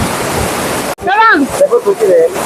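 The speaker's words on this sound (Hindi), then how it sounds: "इतना बड़ा झरना मैंने लाइफ में फर्स्ट टाइम देखा है" A large waterfall roars as a loud, dense broadband rush for about a second, then cuts away to a voice speaking over a much quieter background.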